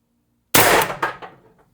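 A single sharp metallic clang as an Umarex TR50 air rifle pellet strikes a steel target, ringing briefly with a few fading rebounds after a moment of silence.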